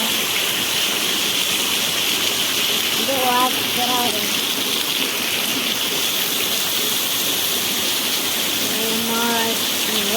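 Heavy monsoon rain pours steadily over a village in a dense, unbroken roar close by, while a voice speaks briefly in the middle and again near the end.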